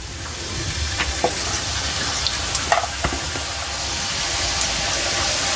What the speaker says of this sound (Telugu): టెన్షన్ లేకుండా మనకు డీప్ ఫ్రై అయిపోతాయి ఇవి